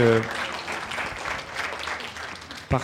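Audience applause at a ciné-club screening, a moderate wash of clapping running throughout, with a brief voice at the start and another near the end.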